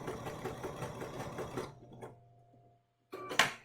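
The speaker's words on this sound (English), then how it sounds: "So let me start sewing again here." A Bernina sewing machine stitches in a steady, fast mechanical whir for about a second and a half, then falls quiet before a brief burst of stitching returns at the end.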